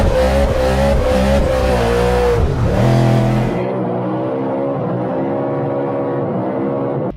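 A BMW M3 GTS engine in the Need for Speed racing game revs hard and loud, a dense harmonic roar for a few seconds that drops to a lower, steady engine drone without talk.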